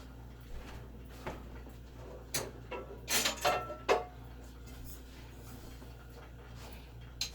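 A cooking pan is lifted out in a home kitchen, giving a few light metallic clinks and knocks at close range, with a brief clatter in the middle against quiet room tone.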